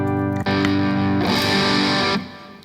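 A guitar plays through a Boss DS-1 distortion pedal, sustained fuzzy chords ringing loud and close, with a sharp change of chord midway and a cutoff near the end, no talking.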